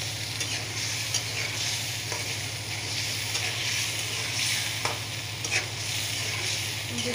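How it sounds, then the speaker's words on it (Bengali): Tomatoes fry with a steady sizzle in a pan while being stirred, giving continuous frying hiss with occasional scraping clicks, close and moderately loud, with no voices. "টমেটোটা অ্যাড করে দেব। তারপরে এটাও ভালোভাবে মাখো মাখো করে ভেজে নেব।"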